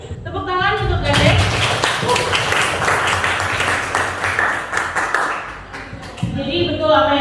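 An audience claps for a presenter at a teacher performance exam session at Universitas Negeri Makassar, a dense burst of hand claps lasting several seconds, with voices talking over and after it.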